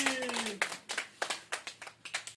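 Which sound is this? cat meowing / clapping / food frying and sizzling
clapping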